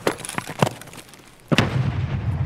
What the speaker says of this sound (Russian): бросаю еще одну гранату рикошетом